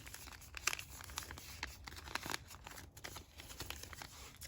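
Paper being folded into a fortune teller, with close crinkling and crumpling in a steady run of short creases and rustles, no talking.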